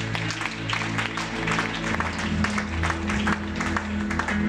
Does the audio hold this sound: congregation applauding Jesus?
yes